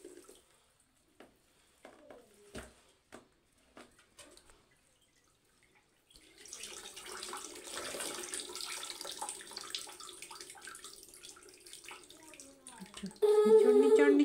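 Wet clothes are wrung out by hand during household chores done by a young child. Scattered drips come first, then a steady run of splashing and trickling water that swells louder at the end.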